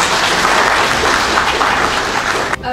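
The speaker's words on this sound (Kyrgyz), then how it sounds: "Бир кол чаап аларсыз" An audience at a youth meeting with a city mayor applauds, a dense, even burst of clapping that holds steady for a couple of seconds before cutting off abruptly.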